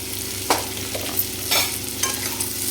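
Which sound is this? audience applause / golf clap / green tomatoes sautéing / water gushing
green tomatoes sautéing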